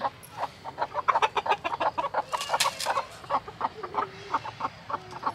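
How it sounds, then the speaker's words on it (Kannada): Chickens cluck repeatedly in quick, uneven bursts, fairly close by, with some sharper squawks mixed in and no talking. "ಕೋಳಿ ಎಲ್ಲ ಬಂದಲ್ಲಮ್ಮ"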